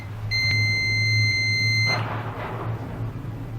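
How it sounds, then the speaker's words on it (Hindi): A multimeter's continuity buzzer sounds as its probes touch a wire: a steady, shrill electronic beep lasts about a second and a half, then cuts off, over a low constant hum. "जब हम दूसरे तार में लगाते हैं तो ये बजर की आवाज आ रही है"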